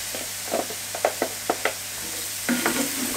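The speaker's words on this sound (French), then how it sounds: "Donc là, on fait dorer l'ail" Chopped garlic frying in fat, a soft continuous sizzle punctuated by a series of short stirring scrapes and clicks at irregular intervals, close by with no talking.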